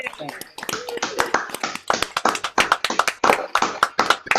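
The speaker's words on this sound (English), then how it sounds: "Another round of applause for David, please." A few people clap in a virtual open-mic session, close and sharp, the slaps uneven and sparse rather than a full crowd, with voices talking over them throughout.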